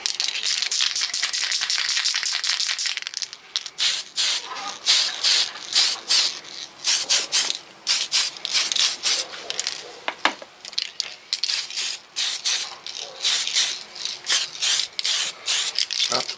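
A spray can of TS-14 Black sputters in repeated short bursts over a model 1983 Hurst Oldsmobile car body, with a can being shaken at the start and then quick hissing sprays coming one after another, close and loud.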